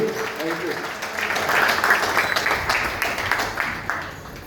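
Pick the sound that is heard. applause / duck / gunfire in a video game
applause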